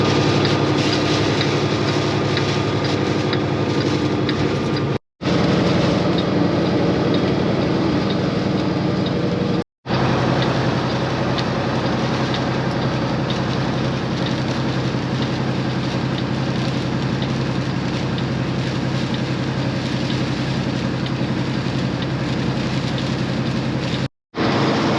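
A semi truck rolls down a long 6% grade in tenth gear with its Jake engine brake fully on, giving a steady loud low rumble and roar, with rain and road noise on top and no talk.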